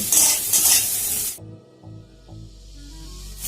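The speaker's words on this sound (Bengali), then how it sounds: "পেঁয়াজ আর কাঁচা লঙ্কাটাকে তেলের সাথে নাড়াচড়া করে মিশিয়ে ভাজা ভাজা করে নেব" Loud hissing sizzle of onions and green chilies frying in hot oil, then it quiets to a low crackle with a few clinks of stirring.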